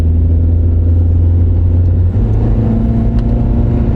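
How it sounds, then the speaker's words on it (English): A car engine accelerating gently during a fuel trim check, giving a loud, close, steady low rumble with a slight rise in pitch and no talking. "So we'll accelerate a little again."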